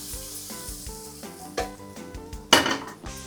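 Boiled peas sizzle in a pan as they are stirred into a homemade Agri masala with a little turmeric, the frying hiss mixed with stirring scrapes and a sharp clatter near the end, under background music.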